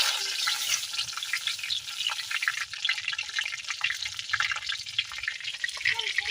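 Green chilies and nigella seeds fry in hot oil in a kadai, a steady close sizzle with crackling pops throughout.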